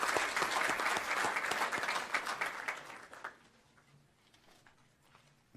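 An audience at a board of education meeting claps loudly and densely for about three seconds, then the applause thins out into scattered claps and fades to near quiet.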